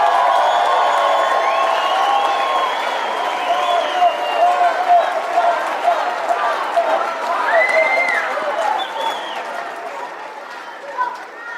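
Applause and cheering from a conference crowd at CPAC USA in Dallas, Texas, sustained and dense across the whole stretch, with whoops rising at moments and voices mixed into the roar.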